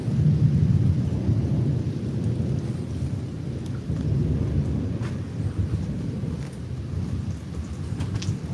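Steady rain patters down during a monsoon thunderstorm while hiking outdoors, with low rolling rumbles of thunder swelling and fading underneath; continuous and fairly close, with a few scattered crackles and no voices.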